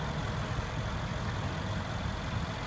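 Mercedes-AMG sedan engine running at a steady, dense rumble, loud and close, with a constant broadband roar and no voices.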